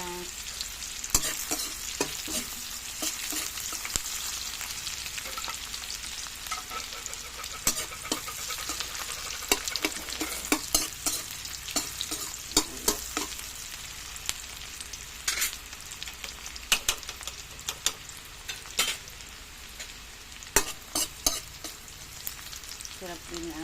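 Onions stirred and fried in a pan for a heart-of-palm and corned beef lumpia filling, a continuous close sizzle broken by frequent irregular scraping and tapping of the spatula throughout.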